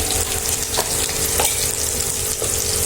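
Spices and curry leaves frying in hot oil in a pan before turmeric goes in, for an egg fry dish: a dense, loud, constant sizzle with a few soft stirring scrapes over about three seconds.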